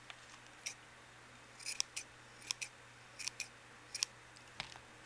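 Scissors snipping the uneven strands of a yarn pom-pom, a string of quiet, crisp cuts arriving singly and in quick pairs against faint background hum.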